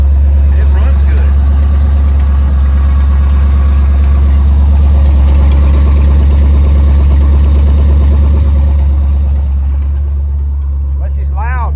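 A 1973 Jeep CJ5 fitted with dual exhaust idles loud and steady, with a deep continuous rumble. It eases off slightly near the end while someone talks over it.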